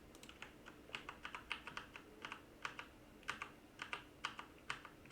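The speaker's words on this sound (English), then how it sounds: "Now I'm just going to keep on clicking Control Z and get it out of the way" Computer keyboard keys pressed over and over, likely the Control Z shortcut, in quick irregular clicks close to the microphone, with no talking.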